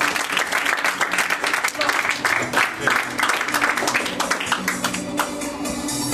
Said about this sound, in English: Give a round of applause for Mark Delimore.